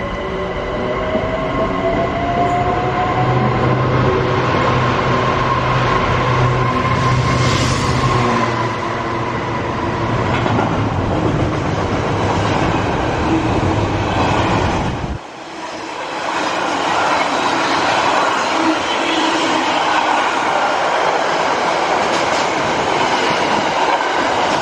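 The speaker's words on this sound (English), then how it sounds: "The approaching train is not scheduled to stop at this station." A train on a London-area line rushes through a station without stopping, a loud, sustained roar of wheels and carriages that cuts off abruptly midway before a rougher rumble continues.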